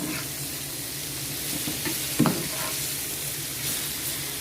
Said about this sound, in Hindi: साथ ही हमारा चिकन भी फ्राई हो रहा है